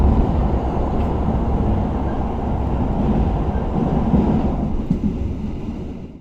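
Riding aboard the Pasundan economy-class passenger train, a loud continuous low rumble of wheels on rails with steady rattling from inside the carriage.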